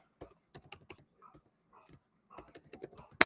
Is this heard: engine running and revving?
no